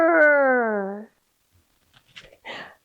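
Children's voices imitate a bear growl: one long, loud, gliding vocal growl lasting about a second, then a pause and several short, scattered, rougher bursts.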